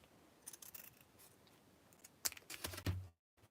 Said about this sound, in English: And then I take my scissors and I'm going to cut from the folded side up at an angle